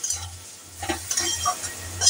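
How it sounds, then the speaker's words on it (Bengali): Beaten curd is stirred into okra frying in a pan, producing close, intermittent spoon scrapes and soft sizzling over a low steady hum. "সেই দইটাকে আমরা দিয়ে দিলাম, দিয়ে একটু নাড়াচাড়া করে দেব"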